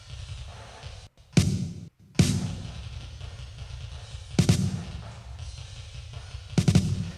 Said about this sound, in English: So if I just solo the ghost notes, it sounds like this.